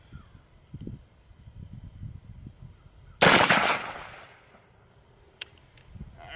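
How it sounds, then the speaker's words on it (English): A single .300 Blackout shot from an AR pistol fired at a brake rotor: one loud, sharp crack with a trailing echo that decays over about a second, followed by a faint click against quiet background rustle. "300 blackout coming out of my AR pistol with the Vortex Spark 2"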